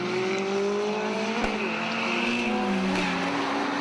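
GT Cup race cars howl past along Lakeside at Oulton Park, steady engine drones shifting pitch as they pass at middle distance, with a brief sharp transient partway through and no voices.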